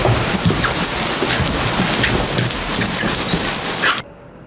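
Heavy rain pours down in a dense, loud, continuous hiss with scattered heavier drops, then cuts off abruptly near the end.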